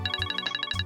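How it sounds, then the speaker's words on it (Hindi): A phone ringtone sounds for an incoming call, a close, loud electronic melody of quick repeating bright tones with no voices over it. "अरे जेठा जी का फोन है।"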